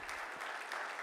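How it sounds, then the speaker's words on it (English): Brief applause from a conference audience at the CUNY BMI Conference, a short steady patter of clapping at moderate level with no voices over it. "please, let's give her a round of applause"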